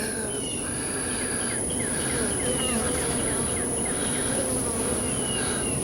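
Honey bees buzzing inside the hollow of a dead tree that holds a hive, a steady dense insect drone outdoors with a high constant whine and scattered chirps, moderately loud and continuous with no talking.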